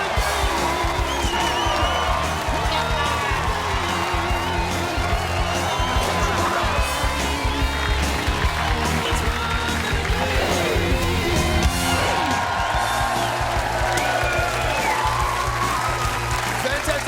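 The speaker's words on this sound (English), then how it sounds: "Crowd up and about, of course, here in the Docklands for the one and only Footy Show." A studio crowd at The Footy Show in the Docklands cheers and applauds steadily throughout, a dense, loud wash of clapping and shouting with music playing underneath.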